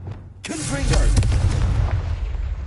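A Confringo fire spell bursts in Hogwarts Legacy, a sudden booming blast with a whooshing, rumbling tail that lingers; a voice speaks as the spell is cast.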